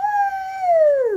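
A single sustained howl, voiced by a person imitating a wolf, slides slowly downward in pitch and fades out after about a second.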